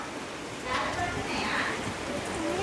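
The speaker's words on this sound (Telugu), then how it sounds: "వర్షం వస్తుంది" Steady rain hisses at a soft, even level, with faint indistinct voices in the background.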